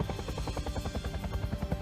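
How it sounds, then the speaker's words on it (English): Huey medevac helicopter in flight, its rotor beating in a fast, regular thump over a faint engine whine, fairly quiet and steady throughout. "A medevac Huey helicopter"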